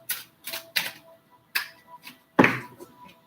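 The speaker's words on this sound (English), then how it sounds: "We'll cut the deck." A deck of cards is cut by hand, giving a few crisp, close snapping and tapping clicks spaced unevenly, ending in one sharper slap of cards in a quiet room.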